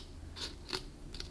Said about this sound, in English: I'm just going to cut off this end here